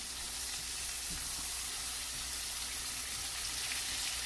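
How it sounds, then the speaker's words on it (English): Even, continuous hiss of vegetables stir frying in melted butter, a dense sizzle close to the pan that holds steady throughout with only faint stirring movement. "Just going to stir fry my vegetables."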